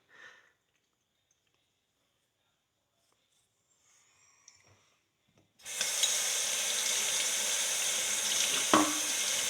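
Water from a tap rinsing a metal horseshoe, a steady loud hissing spray that starts abruptly after several seconds of near silence and a few faint clicks.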